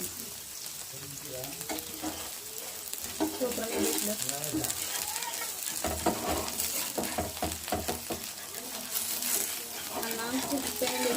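A crispy rava dosa fries in a hot pan with onions and cumin, giving a steady, dense sizzle that runs throughout with occasional stirring or scraping, fairly loud and close.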